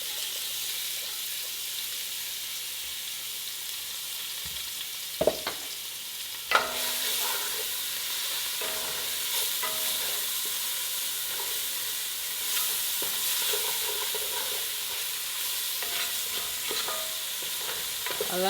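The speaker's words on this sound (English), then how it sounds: "I'll take them all out and saute the onion and garlic in here." Onion and garlic sauté in a pot of hot fat left from browning pork hocks, giving a steady close sizzle with a few sharp clanks of stirring near the middle.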